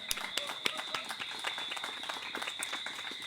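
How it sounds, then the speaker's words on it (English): An audience at a hosted evening lecture event claps together in a steady, dense round of applause, heard from a moderate distance with no voices over it. "so if we can get a round of applause for Cottage Club as well."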